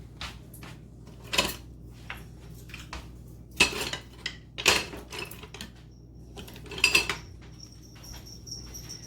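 Bananas mashed in a bowl for banana bread: irregular clinks and scrapes of a utensil against the bowl, several sharp clacks in bursts separated by quieter pauses, close and alone.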